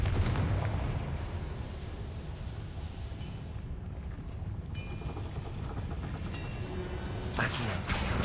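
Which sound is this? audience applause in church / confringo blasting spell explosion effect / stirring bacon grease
confringo blasting spell explosion effect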